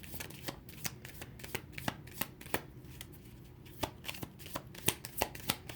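Tarot cards being shuffled by hand in a steady run of crisp riffles and soft slaps, close and fairly quiet, with no talking.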